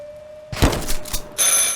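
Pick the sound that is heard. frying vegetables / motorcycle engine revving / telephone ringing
telephone ringing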